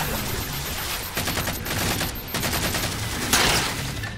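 Beam rifle fire in the video game Halo rattles on in steady bursts, loud and continuous with sharp repeated cracks and a brief gap midway, under dense game sound.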